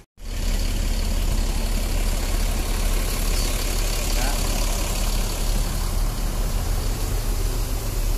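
A bus engine idles steadily while the bus parks, a constant close rumble running throughout without pauses, with talking faintly present.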